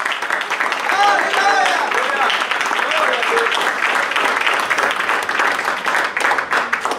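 A church congregation claps their hands in praise for the Lord, brisk continuous clapping from many people mixed with voices and sung tones, loud and close.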